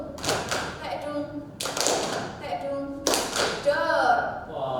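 Sharp rhythmic bursts of tapping and clapping body percussion come in three loud clusters, mixed with vocal syllables chanted along with the beat, as people speak at a national competition.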